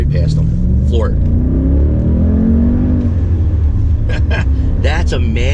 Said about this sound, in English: Gun it right past them. Floor it.